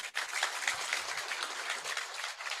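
A crowd claps steadily for a couple of seconds at an outdoor political campaign gathering in Papua, a dense, even patter of applause heard at moderate distance without talk.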